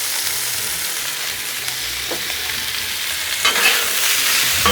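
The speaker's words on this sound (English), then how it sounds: "Get that steak all stirred up." Thin-sliced steak frying on a Blackstone griddle is stirred with a spatula, a continuous close sizzle with scraping and a few sharp clicks, growing a little louder near the end.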